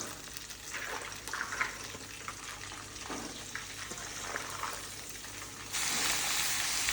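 Garlic, green chillies and curry leaves sizzle in hot oil for homemade garlic pickle, a steady close crackle with brief bursts of stirring and a brighter, louder hiss near the end.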